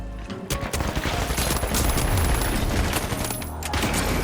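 Rapid gunfire from a double-barrel shotgun and other weapons in the video game The Finals, a dense, loud, continuous barrage of shots and booms filling the clip with no voices.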